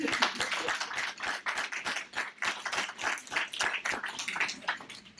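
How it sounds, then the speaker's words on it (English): An audience at a university language summit applauds, steady clapping from many hands lasting several seconds at moderate level, with no voices over it. "you can join me just in for a round of applause"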